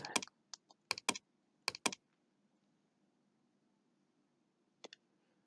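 Sharp computer mouse clicks on a laptop, a few quick single and double clicks in the first two seconds, then one more click after a pause, close and clear in a quiet room.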